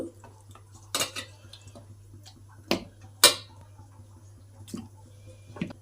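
Washed mutton goes into a wide bowl with a few sharp metallic clinks and knocks against the vessel, spaced irregularly over a quiet kitchen background with a low steady hum.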